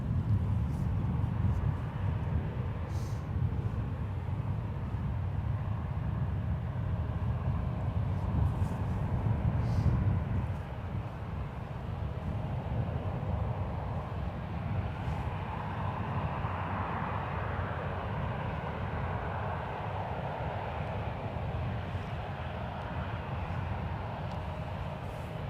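A SkyWest Embraer 175 airliner arriving at San Francisco airport makes a low, broad engine rumble. It is strongest early on, then eases into a steadier distant roar with faint wind buffeting.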